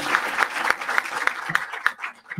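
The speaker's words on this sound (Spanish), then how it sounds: "agradecemos con un aplauso a quienes estuvieron en este panel" Audience applause closing a medical panel discussion, heard as a brief ripple of separate claps from a modest crowd that thins out toward the end.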